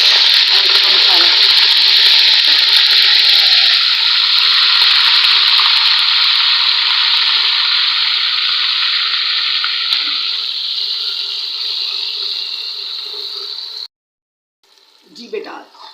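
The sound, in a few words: frying onions and masala for green Bangda fish curry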